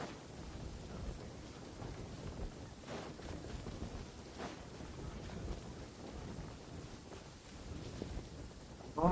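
Steady rain pours with rumbling thunder during a thunderstorm in the video game Genshin Impact, a dense continuous wash of noise with low rolls and no voices.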